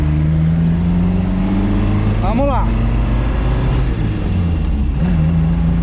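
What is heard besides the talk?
Fiat 1500 Rally classic car engine while driving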